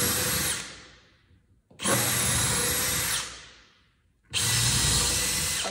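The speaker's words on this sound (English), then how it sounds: "I'm just gonna go all the way around with my drill." A power drill boring pilot holes in wood runs in three loud, close bursts, each spinning up sharply, holding, then winding down with short quiet gaps between.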